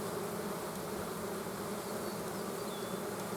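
Honeybees buzz steadily around an open hive during a colony transfer, a dense, continuous drone of many wings holding even and close throughout, with no voices.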